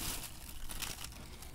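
A small plastic bag crinkles and rustles in a short, continuous burst as a handheld vacuum is emptied into it, close and moderately quiet with no talking.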